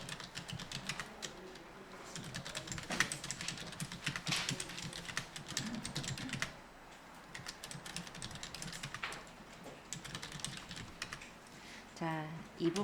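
Close, quiet clatter of typing on a computer keyboard, rapid irregular keystrokes continuing through the whole stretch with short pauses, and a voice speaking softly near the end.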